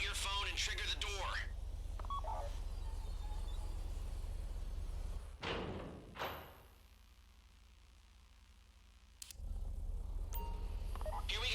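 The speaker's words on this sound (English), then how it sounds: "Take out your phone and trigger the door." A phone dialing to trigger the vault door during the Fleeca Job heist in GTA V Online: a voice talks at first, then a few electronic dialing beeps and a loud rumbling burst before a quiet stretch.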